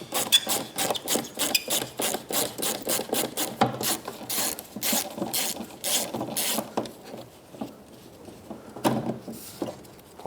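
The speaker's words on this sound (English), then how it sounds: "to use a Phillips head screwdriver, and there are 2 Phillips head screws that hold this in" A Phillips screwdriver turning out screws from the third brake light on a 1997-2003 Ford F-150, a rapid close rasping, ratcheting scrape in quick repeated strokes that slows and thins toward the end, with no talking.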